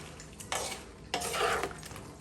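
Scallions being stirred into sweet and sour fish sauce in a pan off the heat, two short scraping stirs of a utensil against the pan, soft and close, no talk.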